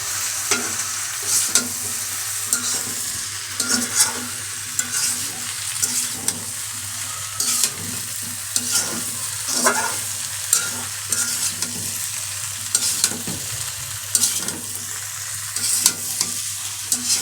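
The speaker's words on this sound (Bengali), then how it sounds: "এবার সবগুলো একসাথে নাড়াচাড়া করে মিক্স করে নিব ভালো করে" Vegetables with ginger paste and salt being stirred in a pan, repeated spatula scrapes and knocks over a low steady sizzle, close by and without speech.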